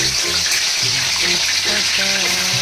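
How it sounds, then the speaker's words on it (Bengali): A steady, loud sizzle of chicken frying in hot oil and ghee in a kadai fills the clip, with low clanks and a faint hum underneath. "কড়াইয়ে তেল আর ঘি গরম হয়ে গেছে আমি চিকেনটাকে ঠিক পাঁচ মিনিট মতো একটু ফ্রাই করে নেব"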